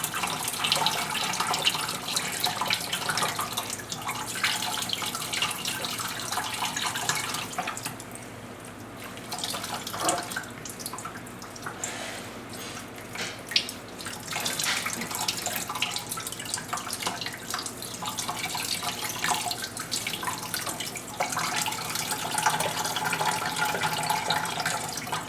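Squeezed peach pulp for homemade wine releasing juice, a continuous wet trickle and drip into a container, fairly close and steady for about 25 seconds with a brief lull partway through.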